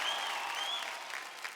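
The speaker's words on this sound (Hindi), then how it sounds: "जोरदार तालियां हो जाए" Studio audience applauding on an Indian TV talent show for child performers, a steady dense wash of clapping that holds at even loudness and tapers slightly toward the end.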